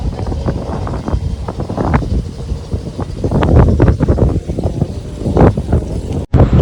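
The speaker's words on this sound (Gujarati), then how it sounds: "એવો મસ્તનો પવન આવે છે" Wind blows hard past a moving car during the rainy season, buffeting the microphone in loud, fluctuating rumbling gusts that briefly cut out near the end.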